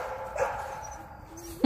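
Puppies playing with an older dog give a few soft whimpers and yips, ending in one sharper close bark.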